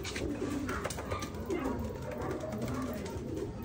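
Racing pigeons cooing steadily in the background, a continuous low murmur of several birds, with faint voices underneath.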